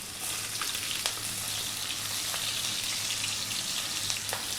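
Onion, celery and peppers stir-frying in hot sunflower oil in a wok, a loud continuous sizzle with occasional crackles and light stirring clicks, no talking.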